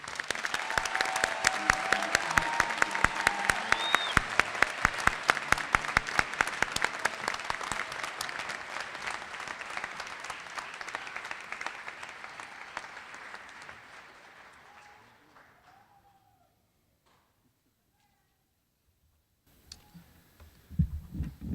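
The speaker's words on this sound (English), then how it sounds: "A round of applause for our graduates." A crowd at a graduation ceremony applauds steadily with dense clapping that gradually fades to silence, followed by a few scattered sounds at the end.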